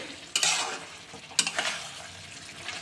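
Chicken pieces are stirred in a pan with spices, with two sharp scraping stirs followed by a soft, steady sizzle of frying underneath.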